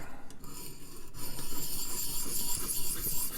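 A Gavko Thresher knife blade being sharpened, the steel rasping in repeated close strokes from heel to tip with a gritty, scraping texture, fairly loud and alone.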